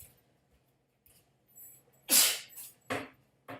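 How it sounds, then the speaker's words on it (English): A person sneezes in quick succession, one strong burst followed by two shorter ones, close and sharp against near silence with faint breathy sounds just before. "Why am I sneezing so much?"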